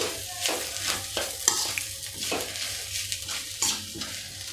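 A spoon scrapes and stirs fresh coconut fry with raw cumin in a pan, with repeated soft strokes in an uneven rhythm over a faint sizzle, close by and fairly quiet.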